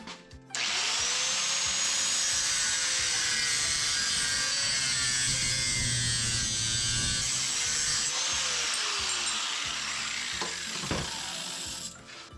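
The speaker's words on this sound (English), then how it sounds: "I'm going to use my angle grinder, I think, to cut that off." A hand-held angle grinder cuts through a metal wing on a clamped shelter frame. It gives a long, loud, continuous grinding whine that starts abruptly, holds for about eleven seconds and then stops, leaving a few knocks.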